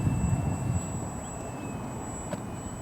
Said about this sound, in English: Still have control of the airplane, but I'll bring it over right here, and I'm going to turn it hard to the left.